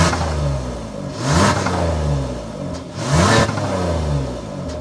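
A 2024 Kia Telluride's 3.8-liter V6 runs with a throaty exhaust idle, revving up twice in quick surging bursts that fall back to a steady rumble, heard close from the car, with no speech.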